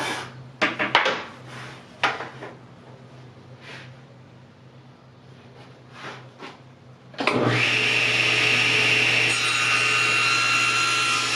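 Wooden piece for a jewelry box being trimmed, with short scraping strokes at first, then a loud continuous power-tool whine that takes over for the last few seconds, close up.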